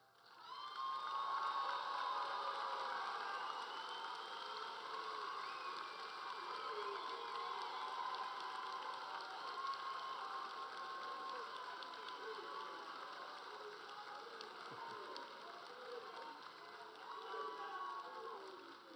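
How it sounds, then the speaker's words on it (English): A graduation crowd at a high school ceremony applauds and cheers for award and scholarship recipients, with sustained clapping, whoops and shouts rolling on steadily for many seconds, heard from a distance across a large audience. "Another round of applause."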